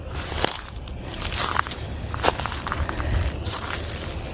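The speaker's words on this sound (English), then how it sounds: "Wow, look out for that. That's broken glass." Footsteps crunch over scattered broken glass and old bottles in an abandoned cemetery, with gritty crackling steps close by, bright sharp crunches spaced irregularly through the clip and no talking.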